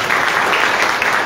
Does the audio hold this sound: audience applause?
yes